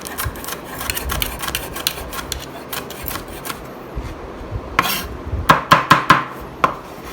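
A knife cuts capsicum into cubes on a cutting board, with steady soft scraping followed by a quick burst of sharp, close chops near the end.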